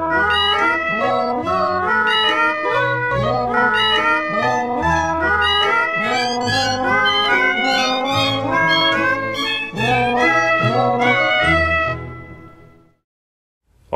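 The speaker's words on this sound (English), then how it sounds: "A related annoying technique known as cat yodeling now benefits from auto-tune technology." A cat's meows and caterwauls are pitch-corrected with auto-tune into a yodeling, warbling melody. The tuned cries run loud and continuous over a low backing for about twelve seconds before fading out.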